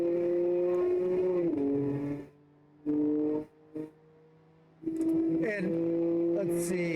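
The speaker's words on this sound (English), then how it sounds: "And here comes that Camaro again." The number 11 Camaro race car roars past on a track during a multiclass night fun run. Its engine note revs in loud bursts that drop away and return, with other engine sounds and faint commentary.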